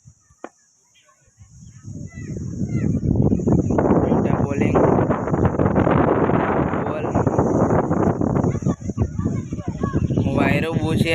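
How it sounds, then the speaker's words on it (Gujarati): Strong wind buffets a microphone outdoors during a casual cricket match, a loud, steady roar and rumble that starts after a brief quiet click and continues without pause. "વાયરો બહુ છે આજે."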